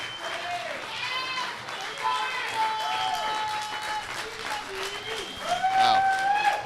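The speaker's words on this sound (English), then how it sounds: "Just letting y'all hear the crowd right now." At a Premier League final night in Philadelphia, a large crowd claps and cheers in a steady roar that swells toward the end, with a commentator's voice running over the applause.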